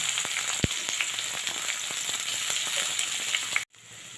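Chopped onion dropped into hot oil with whole spices, sizzling loudly and steadily close up, with a few sharp pops and stirring scrapes before the sound briefly cuts out near the end.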